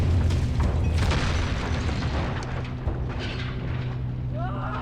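Heavy booming blasts and rumbling rock slides from a documentary about Chinese railroad workers, with dense low rumble filling the whole stretch and faint voices underneath.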